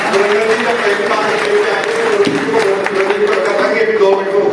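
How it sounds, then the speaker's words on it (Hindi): An audience at a motivational seminar applauds loudly for a man called up to the stage, a steady dense wash of clapping that continues throughout with a voice talking over it. "सुरेंद्र जी के लिए जोरदार ताली बजाइए।"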